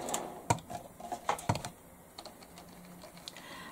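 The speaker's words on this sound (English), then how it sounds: "I'm going to type a message in here" Keys on a computer keyboard clatter in an irregular burst of close, crisp taps, with a few louder strikes early on and lighter, scattered clicks toward the end.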